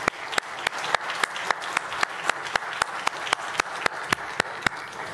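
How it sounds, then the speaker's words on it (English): A conference hall audience at a forum panel applauds the panelists, steady evenly paced clapping that is fairly sparse and close, continuing throughout. "please give a round of applause for our panelists"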